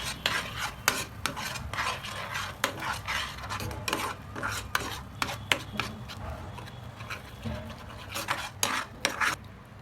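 A spoon repeatedly scraping and clanking against a pan while butter chicken masala is mixed, with sharp rhythmic metallic strokes close by and no talking.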